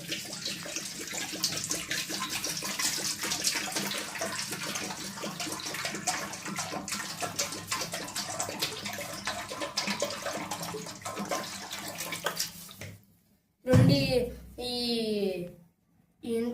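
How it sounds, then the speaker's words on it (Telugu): Water pours steadily into a pot for about twelve seconds under faint talk, then stops; a voice speaks briefly afterward. "వాటర్ అయితే పోసేద్దాం"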